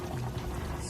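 A small amount of oil poured into a pot of pasta water, a steady close liquid trickle running continuously without talk.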